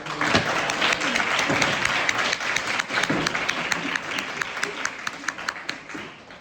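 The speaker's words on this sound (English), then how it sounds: "can we give Anna and everyone from the SIIMS Club a big round of applause?" An audience at a high school medical club symposium gives a round of applause, dense steady clapping throughout, with some sharper individual claps near the end as it begins to thin out.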